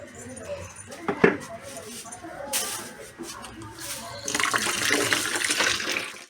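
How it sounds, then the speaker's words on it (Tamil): Four cups of water pour into a container of kitchen waste for homemade liquid fertilizer, a steady splashing rush that fills the last two seconds, following a stretch of someone talking over softer handling noises. "நாலு கப் தண்ணி இதில் சேர்க்க போகிறேன்"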